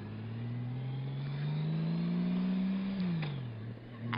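A motorcycle engine climbs steadily in pitch as it accelerates up a freeway on-ramp, then eases off with a drop in revs. It is loud and continuous, with wind rush and no speech.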